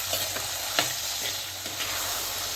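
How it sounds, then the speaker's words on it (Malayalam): Chopped bilimbi (irumban puli) sautés in a pan for pickle, a constant bright sizzle with a few soft scraping stir strokes close by and no talking. "നന്നായിട്ട് വഴറ്റണം അത് ഇത് വേവണ വരെ വരച്ച്"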